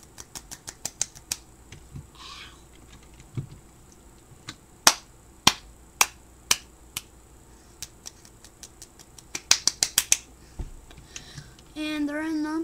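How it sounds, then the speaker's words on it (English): Rapid clapping during a session of the online shooter game Energy Assault: sharp, crisp claps in quick irregular runs, some very loud and close, with a voice coming in right at the end. "Speed clap."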